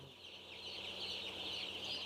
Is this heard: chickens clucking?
yes